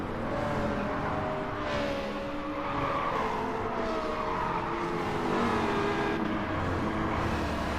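Race car in a racing video game on the Dragon Trail reverse layout, a continuous loud engine drone with rising and falling pitch and brief tire skids, steady throughout without voices.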